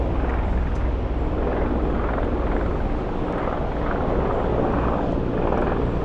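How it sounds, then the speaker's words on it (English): Helicopter passing overhead during a long coastal walk toward South Foreland Lighthouse, a loud, steady rotor drone with a rhythmic throb that swells and fades in slow waves across the whole stretch. "Ooh, a helicopter."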